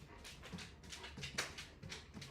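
A dog whimpers and yips in short, repeated high bursts. The sound is soft and close, over a quiet background with no talking.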